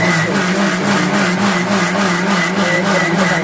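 An electric mixer grinder whirs steadily as it grinds soaked dosa batter ingredients, a continuous loud motor drone with a rhythmic churning pulse, heard alone without voices.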